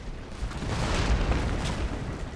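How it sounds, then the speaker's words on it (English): A volley of massive cannons fires in a large video game battle, heard as a dense, sustained roar of overlapping booms filling the whole stretch with no talk. "There goes another volley of my massive cannons"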